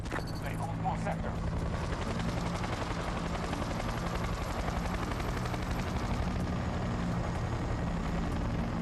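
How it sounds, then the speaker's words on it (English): Helicopter rotor chop from Battlefield 2042 thrums steadily under a constant wash of gunfire and battle noise, with a voice speaking over the action. "We got a chopper."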